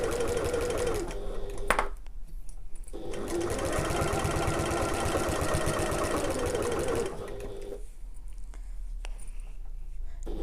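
A sewing machine stitches a seam on a backpack, running in a fast steady mechanical chatter, pausing briefly near the start and again toward the end before resuming.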